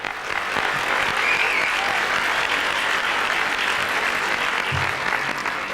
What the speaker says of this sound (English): we should clap them